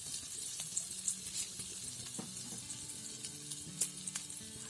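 Butter and cumin seeds sizzle on a hot dosa pan for a Bombay-style pav bhaji, a steady close frying hiss with a few sharper crackles and small clinks, and no talk.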